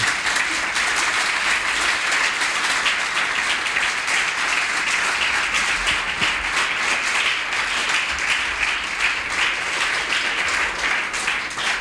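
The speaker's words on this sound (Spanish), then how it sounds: "¿Por qué no le das otro aplauso al Señor?" A church congregation claps for the Lord during a service, a loud, dense and steady round of applause lasting throughout with no break.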